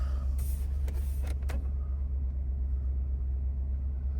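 A 2024 Ford F-250 XLT pickup idles after start-up with a deep, steady low rumble from inside the cab, while a few faint brief clicks and rustles come early on.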